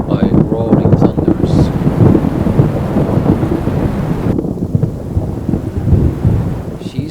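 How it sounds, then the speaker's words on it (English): A thunderstorm with rolling thunder and steady heavy rain, continuous and loud throughout, with gusting wind buffeting the microphone. "Lightning pierced through the sky, followed by roaring thunders."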